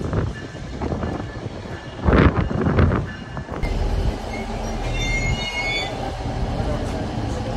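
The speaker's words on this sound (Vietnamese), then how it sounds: "Tụi mình sẽ lên cái train này nha." A passenger train at a station platform on the rail line from Bloor station toward Pearson Airport on a cold, windy day, with loud rumbling, clattering wheels and a surge of noise as it moves close by, plus wind buffeting and some background voices.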